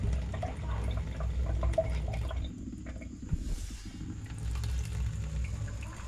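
Water runs steadily from a small pipe during a household water setup at a rural farmhouse, a continuous near splashing flow with a faint drip-like patter and no talking.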